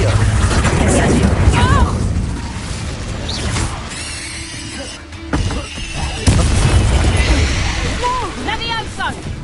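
Hogwarts Legacy spellcasting, with the Incendio fire spell erupting in repeated booming bursts and crackles amid game effects, while a voice talks over the action.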